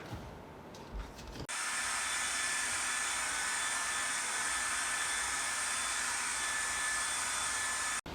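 A hair dryer drying paint switches on after a quiet moment and runs as a constant, loud, close blowing hiss before cutting off near the end.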